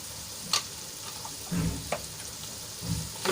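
Onions cooking with salt in a pan until soft, giving a soft sizzle under a few brief scraping stirs, quiet and close, with no talking.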